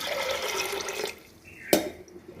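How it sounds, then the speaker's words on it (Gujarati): Water pours steadily into a pressure cooker for about a second, then stops, followed by a sharp metallic clink. "હવે આપણે એમાં બે ગ્લાસ જેટલું પાણી નાખી દઈશું"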